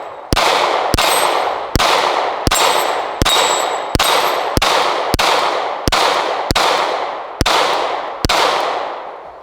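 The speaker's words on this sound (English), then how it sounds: "let me shoot another magazine" A pistol firing through a 17-round magazine: about a dozen sharp, loud shots spaced at a steady, unhurried pace, each one ringing off briefly before the next, with no talk.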